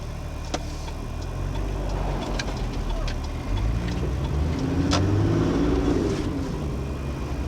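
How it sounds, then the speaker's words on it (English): A car on an outback road trip near Charleville passes by, its engine and tyre rumble rising then fading over several seconds, moderately near, with a faint ticking and low background hum. "Let this car go past."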